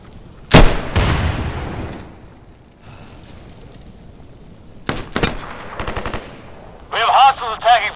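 Loud bursts of M16A4 rifle fire in the video game Insurgency, with an opening volley, then a quieter gap, then several sharp rapid shots followed by a radio-style voice.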